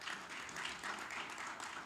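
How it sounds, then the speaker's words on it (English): An audience at an entrepreneurship and innovation event in India applauds in a soft, even patter that stays faint and distant throughout. "A big round of applause for her as well."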